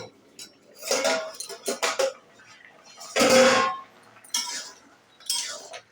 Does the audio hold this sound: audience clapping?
no